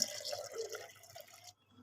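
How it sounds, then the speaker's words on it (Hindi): Plain water pours into homemade Blue Band-style butter, a soft, close liquid trickle with light splashing that stops abruptly near the end. "तो अब मैं फिर इसमें नॉर्मल पानी डालूँगी"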